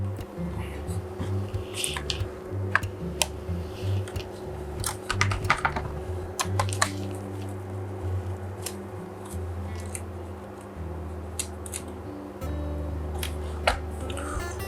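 Small screws being removed from the keyboard area of a Compaq 610 laptop that will not power on, with faint clicks and scrapes of a screwdriver over a steady low hum.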